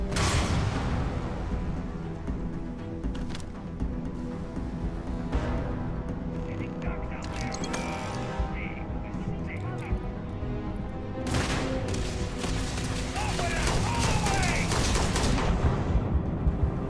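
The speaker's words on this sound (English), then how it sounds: "Lots of explosions and explosions." Gunfire and explosions in the sci-fi video game Starfield, with repeated sharp shots and bursts of booming blasts in a busy battle mix, loudest in a heavy stretch toward the end.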